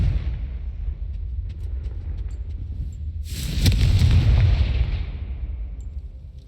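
Confringo fire spell blast in Hogwarts Legacy, with a low rumbling game background that erupts into a loud, broad burst about midway and then slowly fades out.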